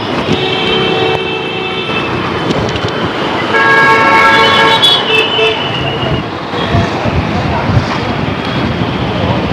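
Car traffic on a busy road while riding as a passenger in a vehicle that stopped to give a lift, with steady road rumble, several horn toots around the middle, and people talking over the drive.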